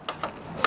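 A ratchet tightening a motorcycle fairing bolt gives a few quiet, quick clicks spaced unevenly in a short moment, close by with no talk.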